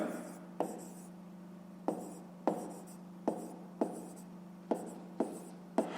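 Pen writing on paper in a steady series of short, crisp scratching strokes, each stroke a quick tap-and-scrape, close and clear over a low constant hum, with no talking.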